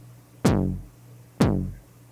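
Analog modular kick drum with no multiband compression, two deep booming hits about a second apart, each a sharp downward-sweeping thump with a rounded tail, alone and fairly soft.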